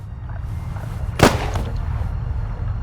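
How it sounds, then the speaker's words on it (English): A single sharp gunshot cracks out mid-scene in the PS4 mystery game The Raven, standing alone over a steady low background hum. "Gunshot. I know that."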